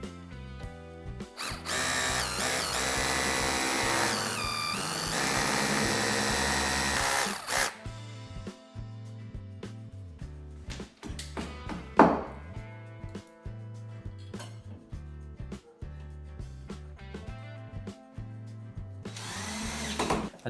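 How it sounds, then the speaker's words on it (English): An electric drill whirs into a wall in several bursts for shelf mounting, a long steady run first, then shorter stop-start drilling with clunks and handling noise in between, close by. "So now we can drill these two and these two."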